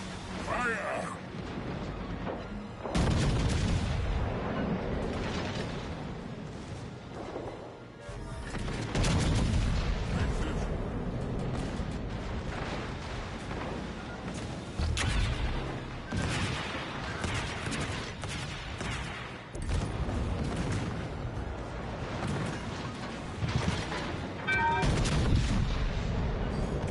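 Warship naval guns fire in World of Warships, heavy booming salvos and rumbling blasts rolling in repeated waves, loud and dense, with a voice talking over parts of the battle.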